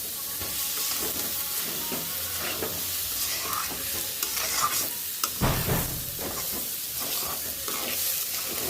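Food frying in oil with a little ghee, a soft continuous sizzle close by with intermittent stirring scrapes and small bursts, fairly quiet throughout.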